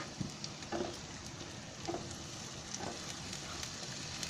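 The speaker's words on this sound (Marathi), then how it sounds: "ते डायरेक्ट नाही ओतायचं, कारण का ती सगळी फोडणी मग बाहेर उडते ना" Phodni (tempering) sizzles in hot oil for a Marathi matki aamti, a soft, steady crackle and fry with a few faint pops and stirring taps scattered throughout.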